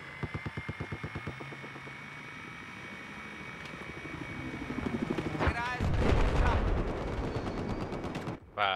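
In the video game Battlefield 4 on the Zavod map, rhythmic helicopter rotor chopping, followed by bursts of rapid gunfire and heavy blasts, with a voice speaking over the action.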